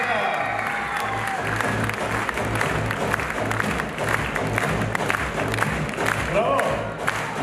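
Loud, sustained applause fills a concert hall at an Armenian cultural organization's anniversary event, with a large audience clapping steadily and cheers rising over it for several seconds.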